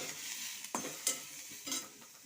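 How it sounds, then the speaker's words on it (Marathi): Onions and coconut roasting in a pan for a brinjal dish, a soft sizzle with a few scraping stirs of a spoon, fairly quiet and close. "कांदे थोडे असे थोडे भाजून घ्यायचे जास्त नाही त्याच्यामध्ये आपण थोडं खोबरं पण टाकून घेणार आहोत"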